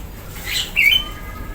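A caged ciblek sawah, a prinia, gives a single short, bright chirp, close and clear, over a quiet room background.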